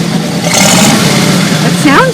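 Chevy 283 V8, taken from a Corvette and fitted in a 1954 Willys Jeep Wagon with louder pipes, rumbling steadily at close range while a voice talks over it and someone whistles near the end.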